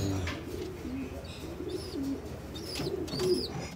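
Pigeons coo repeatedly in a loft, low murmuring calls overlapping at close range, with a few brief higher chirps scattered through.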